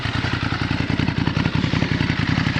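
A motorcycle with a Termignoni exhaust idles close by, loud and throbbing, a rapid lumpy pulse running steadily throughout.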